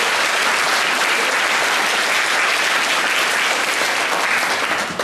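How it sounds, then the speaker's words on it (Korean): A church congregation gives loud, sustained applause to welcome the pastor, a thick, steady roar of clapping that fills the hall from start to finish. "우리 박수로 환영하겠습니다"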